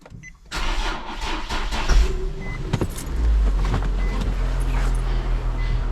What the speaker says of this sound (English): That's round 2 for the starter, going good.